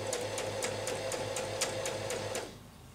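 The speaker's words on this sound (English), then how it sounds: "So I'll start stitching slowly." Sewing machine stitching a chiffon bias strip, a steady close mechanical whir with rapid regular needle clicks, slowing and stopping near the end.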